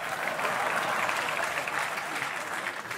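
Dense, steady applause from a comedy show audience, a continuous wash of many clapping hands filling the room at even loudness.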